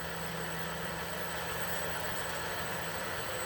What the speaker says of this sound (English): This is done on my Morisaki 18-inch lathe.